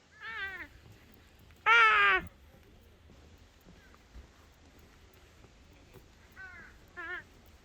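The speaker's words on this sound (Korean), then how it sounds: "까마귀 소리가 굉장히 많이 나네요." A few harsh crow caws ring out, one loud burst near the start and fainter calls later, over quiet outdoor background on a walking path near Hallasan on Jeju Island.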